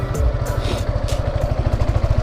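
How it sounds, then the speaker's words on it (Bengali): A motorcycle engine idles and putters with a steady low chugging close by while the bike is turned around on a semi-rural road. "গাইস আমি বাইকটা ঘুরিয়ে নিই, ওদিকে যাবো একটু।"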